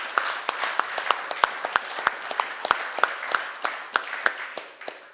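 Audience clapping at a product showcase event, a steady run of distinct, fairly evenly spaced claps at moderate volume, some sharper than others.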